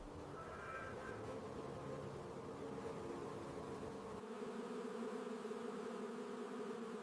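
Bees from a colony under an ageing queen hum in a steady, continuous drone, fairly faint and close, with the buzzing tone thickening slightly toward the end and no voices over it.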